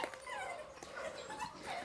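A dog whimpering in soft, high-pitched whines, repeated several times, fairly faint and close.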